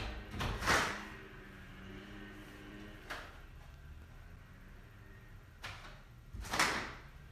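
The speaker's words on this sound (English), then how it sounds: "I'm gonna open up these doors back here." Doors swinging open in an indoor space where a DJI Mavic Pro drone is being flown, with a couple of soft knocks and a louder clunk near the start and end against a quiet room background.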